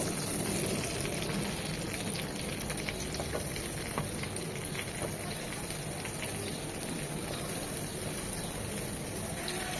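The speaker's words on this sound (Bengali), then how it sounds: "এই তেলে বেগুনটা একটু হালকা করে ভেজে নেব।" Long strips of eggplant frying lightly in oil for a fish and eggplant stew, giving a dense, constant sizzle and crackle close by, steady and unbroken with no voices.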